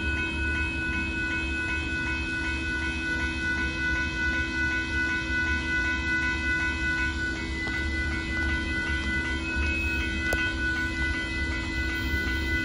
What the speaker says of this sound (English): Here comes Amtrak Texas Eagle train 21